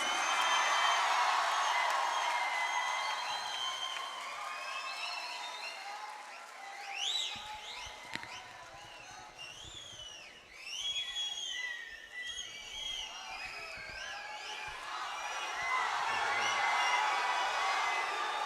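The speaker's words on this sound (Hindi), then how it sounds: "आपकी सीटियां मुझ तक पहुंच गईं और आपकी तालियां भी पहुंच गईं" A poetry gathering audience at Al-Hamra Arts Council in Lahore bursts into sustained applause, which fades mid-way as a run of shrill rising and falling whistles cuts through, then swells into loud clapping again at the end.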